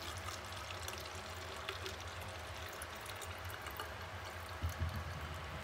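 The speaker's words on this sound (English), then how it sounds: "take my water and be careful not to spill it, and just fill this up to the line" Water is poured into a small container up to a fill line while preparing an ink wash for painting 3D prints, a soft, steady trickle heard alone.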